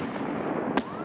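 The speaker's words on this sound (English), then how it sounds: "we're throwing nades in order to disrupt them" A grenade in Escape from Tarkov goes off in one sharp, close blast over a dense rumbling background of gunfire and battle noise.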